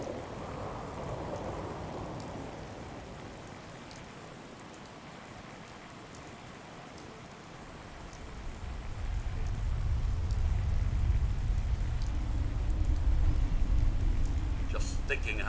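Steady rain falls in the post-apocalyptic game Fallout 4, a broad hiss that thickens into a heavier, louder downpour partway through, with a voice speaking briefly early on.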